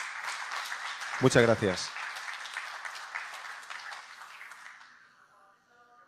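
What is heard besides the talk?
audience applause for a speaker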